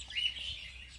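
Small birds in a breeding aviary chirp and tweet in a steady, fairly bright stream of calls throughout, with no talking over them.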